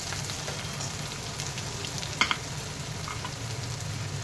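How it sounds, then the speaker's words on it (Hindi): Onion, ginger and garlic fry in a pan, giving a soft, steady sizzle with one brief sharp clink of a utensil near the middle and no talking. "ये देखिए, अदरक लहसुन थोड़ा सा पक जाएगा।"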